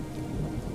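Thunder rumbles low and steady with rain hissing over it, a stormy night effect in a Bengali ghost story; a dense, even wash of sound with no voices.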